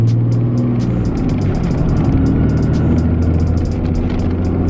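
Cummins diesel truck with a dual-disc clutch shifting gears while driving, a loud steady engine drone whose low tone drops and climbs between shifts, with clicking rattles above throughout.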